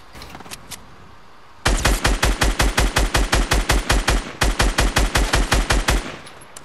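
Rapid gunfire from a sniper engagement in the video game Fortnite, a long burst of evenly spaced loud shots after a quieter start with a few faint pops, with a short break midway before the volley continues.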